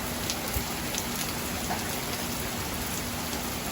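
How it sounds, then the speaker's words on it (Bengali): Torrential rain pours down in a constant, close, hissing wash, with a few sharper drip impacts standing out and no talking. "আর এখানে প্রচুর বৃষ্টি হইতেছে"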